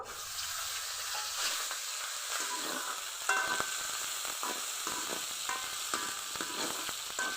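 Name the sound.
green chillies and dried loitta fish frying in oil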